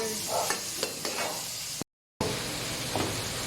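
Shrimp frying in a pan for mixed seafood give a steady broadband sizzle with a few scraping stir clicks, cut by a brief silent gap midway, no voices.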